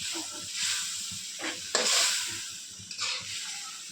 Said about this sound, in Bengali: দেখেন মাছটা আমরা কষায় নিব।